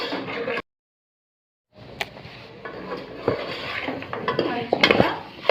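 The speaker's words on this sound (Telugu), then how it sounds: "మంచిగా బాగా ఫ్రై చేసుకోండి" Onions being stirred and fried in a metal pan for gongura chicken, with repeated scraping and clanking of a spoon against the pan over a light sizzle, close and fairly loud, after a brief silent gap.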